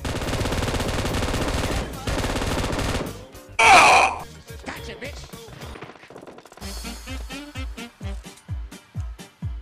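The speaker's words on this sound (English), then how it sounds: "Heavy machine gun." A heavy machine gun fires in the battle-royale game PUBG, sharp rapid bursts and single cracks arriving after a stretch of louder game sound, with a voice talking at times.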